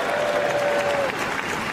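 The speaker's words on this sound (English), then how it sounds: "It's always a deeper cheer, that one." A large arena audience at Crufts, the dog show, cheers and applauds loudly for a jumping dog display by the RAF display team, a dense steady roar of clapping and voices with one whistle rising above it.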